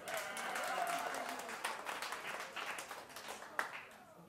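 A comedy club audience gives scattered, fairly faint applause that swells early and then thins into patchy claps, with a voice talking over it.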